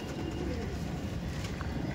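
Madrasi pigeons kept at a home loft coo in a soft, continuous low murmur, close and steady throughout.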